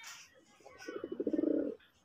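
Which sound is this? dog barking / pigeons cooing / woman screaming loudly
pigeons cooing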